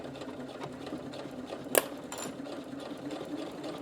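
A sewing machine runs steadily while stitching a seam in stretch fabric for a fingerless glove, a continuous close whirring hum with one brief sharp click partway through.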